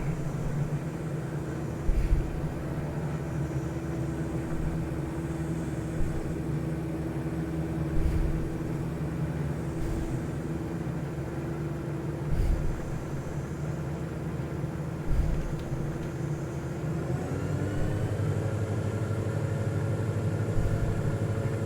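Airplane engine in Microsoft Flight Simulator 2024, a steady droning hum held throughout with a slight pitch change near the end, occasional faint clicks, and no talk.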